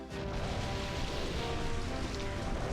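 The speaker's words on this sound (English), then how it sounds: "use that Rain Dance" Steady rain from the Rain Dance move in the Pokémon Colosseum game, a continuous hiss of falling drops at an even level throughout, with no voices.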